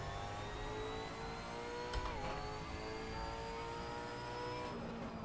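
A Supercars Series race car engine at the Melbourne sprint race in a racing video game, a continuous high-pitched engine drone with rising and falling gear tones and a brief shift blip, steady and loud throughout, no talk.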